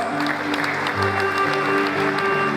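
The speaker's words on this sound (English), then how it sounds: "That deserves another round of applause." A round of applause at a public lecture, brief, fairly loud clapping from the audience alongside a sustained tonal hum.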